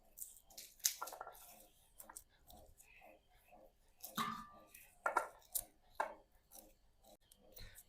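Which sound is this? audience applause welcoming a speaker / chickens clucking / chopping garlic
chopping garlic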